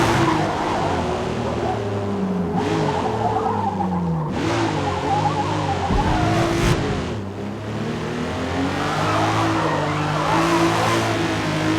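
Tires squeal steadily through a drifting car in Forza Motorsport, with engine drone and whine running continuously underneath, loud and close for the whole stretch and swelling briefly midway.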